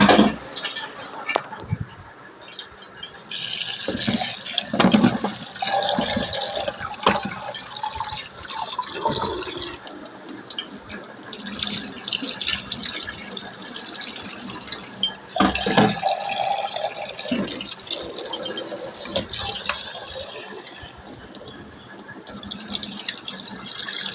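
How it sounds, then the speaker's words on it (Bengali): Tap water runs and splashes over potatoes being washed in a kitchen sink, with uneven dripping, gushing and bursts of handling noise, close and fairly loud, and no speech. "আর এই আলুগুলো একসাথে ধুয়ে কুকারে এখন আমি বসিয়ে দেবো"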